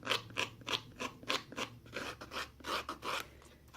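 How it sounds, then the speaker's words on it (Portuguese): Rhythmic scraping of cardboard box edges to level them, about a dozen quick rasping strokes in a steady back-and-forth pattern, close up and alone. "então você raspa para ficar tudo do mesmo tamanho"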